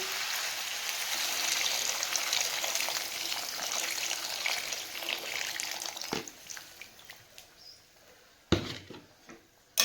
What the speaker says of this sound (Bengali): এই অবস্থায় দিয়ে দেবো জল